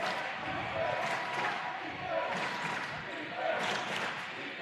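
A packed crowd cheers and roars in the Oak Pavilion at a men's college basketball game, swelling in waves over a steady hubbub of voices.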